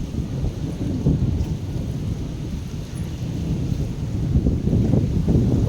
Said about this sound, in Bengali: খুব মেঘ ডাকছে